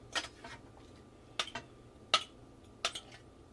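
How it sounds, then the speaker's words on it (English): Noodles lifted from a pot into a bowl along with some cooking liquid, heard as a few sharp clinks of utensils against cookware spaced about a second apart, close and moderately loud against a quiet background. "transfer the noodle out of the pot into the bowl"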